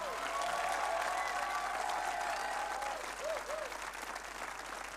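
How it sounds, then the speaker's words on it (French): An audience at a graduation ceremony for a school's 2023 class of students gives sustained applause, a dense wash of many hands clapping evenly and moderately loud throughout, with faint voices mixed in. "encore un tonnerre d'applaudissements pour les étudiants"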